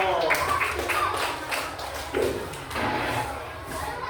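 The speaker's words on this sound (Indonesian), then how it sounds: "kasih tepuk tangan dulu" A class of students claps in a short burst of scattered applause inside a classroom, with taps and thuds mixed in and a teacher talking over the top.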